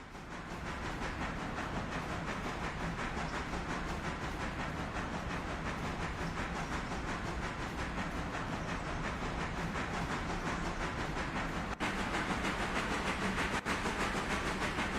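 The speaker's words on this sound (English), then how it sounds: "Back to our little passenger train. It's just cruising along nice and slowly" A passenger train in the Railroader railway game rolls along slowly, giving a steady, dense rumble and hiss that stays loud and unbroken for the whole stretch, with no voices.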